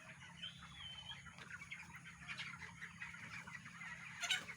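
Broiler chickens in an open-sided farm shed give soft, scattered clucks and chirps under a low steady hum, faint and close by.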